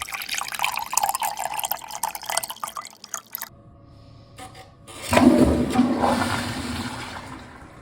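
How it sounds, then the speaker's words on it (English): FlushMate 504 pressure-assisted toilet flushing after an actuator adjustment: dripping and trickling water, a short pause, then a loud sudden whooshing surge that rushes and gradually subsides, close up with no talking. "Let's see how long it takes to complete a flush cycle."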